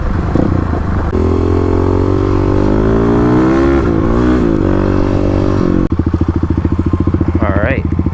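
A Kawasaki KLX351 and a Yamaha WR250R dual-sport motorcycle rev hard in a drag race, engines loud and close, pitch climbing through gears with a sharp shift near the end, a voice briefly audible.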